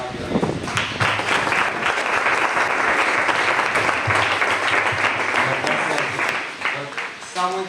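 An indoor group session breaks into sustained applause, a dense wash of many hands clapping that lasts several seconds, then thins out and fades as a voice begins speaking near the end.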